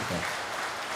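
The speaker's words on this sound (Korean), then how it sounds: "하나님께 영광의 박수 함께 올리겠습니다." Church congregation clapping together during a Sunday worship service, a steady dense wash of applause filling the room for about a second.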